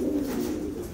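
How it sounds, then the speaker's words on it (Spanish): A pigeon coos steadily and close by, a low continuous calling with no other sounds around it. "Esa paloma, ¿no? Llamando al palomo"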